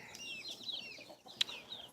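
Chickens, including little ones, give soft clucks and chirpy calls while pecking corn off the cob, a few close, scattered vocalizations with one sharper squawk partway through, and no talking.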